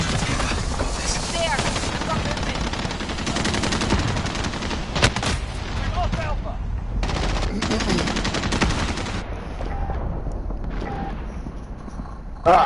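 Rapid bursts of machine gun fire from a video game firefight, loud and dense, run nearly continuously with brief gaps, mixed with other game effects and occasional voices.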